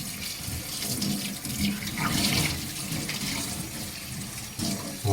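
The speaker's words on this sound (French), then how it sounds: "on peut la passer au lavabo, enfin sous l'eau, pour la rincer." Bamboo microfibre cloth rinsed under a running sink tap, a steady splashing stream of water, close by and without any talk.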